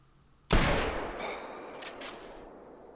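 A single sharp rifle shot from a .308 aimed at a reindeer in TheHunter Classic, loud and sudden, then a long fading echo rolling across open terrain.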